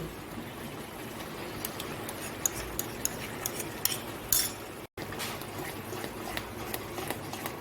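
Sour yogurt being stirred into fried spices in a pan, a steady low scraping with light metallic clinks of the spoon against the pan, fairly quiet and continuous.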